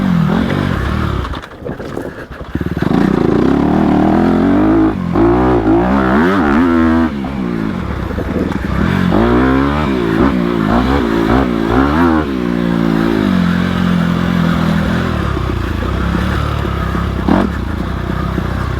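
A 2020 Honda CRF250RX dirt bike rides flowing trails, its engine loud and close, revving up and down through the gears in continuous rising and falling pulls with occasional scrapes and clatter.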